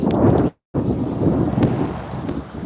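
Heavy wind buffets the microphone outdoors in the hills of Southern California with a loud, rumbling roar, briefly cutting out to silence before the gusting resumes.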